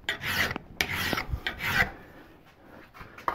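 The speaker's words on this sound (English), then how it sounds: "the edge here where I've been filing" A hand file rasping along a metal edge that was cut with a hacksaw, three or four firm close strokes with short pauses between them, alone without talk.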